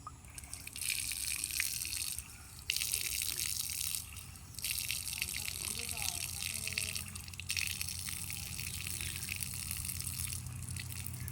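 Water running and trickling steadily for drinking outdoors beside a forest on a morning walk, a bright continuous splashy flow that briefly drops out twice, loud and close.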